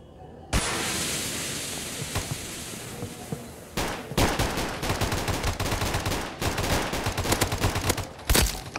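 Loud bursts of automatic AK-47 and M4A1 gunfire ring out in a Kuboom shooter match, opening with a sustained volley, then a short pause before a rapid sequence of sharp repeated shots through to the end.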